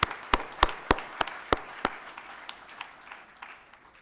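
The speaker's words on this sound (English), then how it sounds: "a big round of applause for all of the students and all the teachers" At a PGDM convocation ceremony, a handful of sharp, distinct hand claps ring out in a quick, uneven series, then fade into faint scattered clapping in a reverberant hall.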